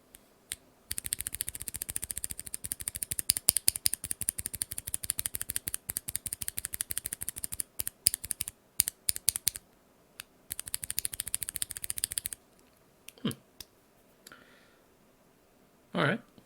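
NovelKeys BOX Cream mechanical keyboard switches fitted with keycaps, typed in rapid steady clacking bursts up close, with short pauses and a few isolated clicks near the end.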